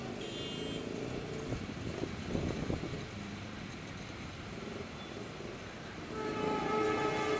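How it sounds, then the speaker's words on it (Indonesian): A long Serayu passenger train pulls into Padalarang station, heard as a faint, steady rail rumble that swells louder toward the end, with no talking. "Oh, ternyata ada kereta nih yang masuk ke stasiun Padalarang."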